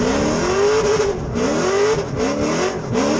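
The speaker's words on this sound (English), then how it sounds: "Let you guys enjoy this drift footage." A Nissan S13 drift car at a pro-am drift event revs hard with rising and falling engine pitch as it slides, mixed with tire squeal, loud and fairly close, with no voices.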